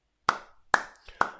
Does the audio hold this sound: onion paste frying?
no